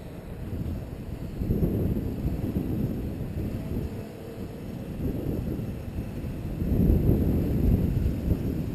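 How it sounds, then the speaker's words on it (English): Low, rumbling wind buffeting a Blade 350QX quadcopter in flight outdoors, steady and close to the microphone, swelling near the start and again toward the end. "Fighting that wind."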